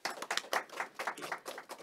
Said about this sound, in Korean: 큰 박수로 부탁드립니다.